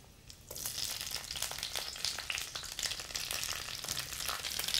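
Fresh asparagus frying in melted butter in a pan on the stove, a steady bright sizzle that jumps up as the spears land and then holds evenly, close and alone without talk.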